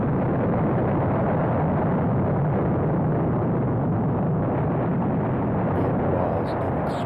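A Saturn V rocket ignites and lifts off with a massive, continuous roar: dense, crackling low rumble that holds steady and overwhelming throughout, heard from a distance.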